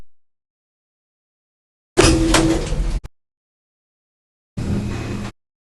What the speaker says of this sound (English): Which are the car park lifts, which are some nice Schindlers.